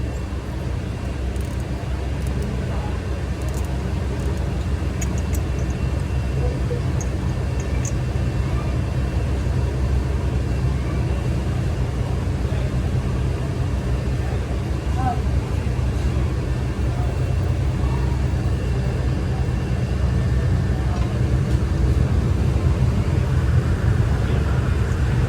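A Ford Wildtrak engine runs with its clutch fan, giving a loud, steady, close hum and rumble that holds unchanged throughout.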